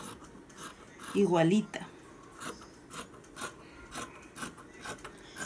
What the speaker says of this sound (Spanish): La estamos cortando por la parte trasera.